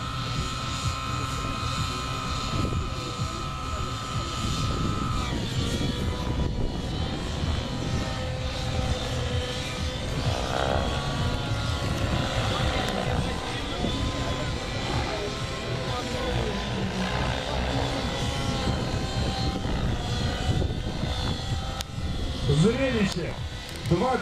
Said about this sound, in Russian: Зрелище! Два 90-х вертолета!